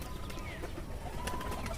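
Pigeons cooing softly in the distance amid faint outdoor background noise, with a few light chirps.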